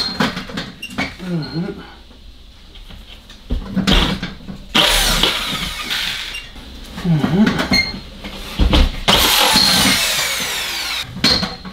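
A power drill bores in short bursts into a false ceiling during a small studio renovation, loud and close with pauses between runs, while someone speaks briefly between the bursts.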